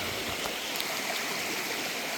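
A creek runs steadily over a gravel bar of glacial till, a close, continuous rushing and babbling wash with no pauses.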